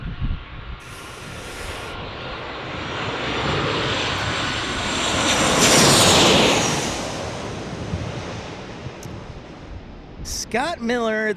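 A jet airliner coming in to land at San Diego, a loud continuous engine roar that swells to a peak midway and then eases, with people talking over it.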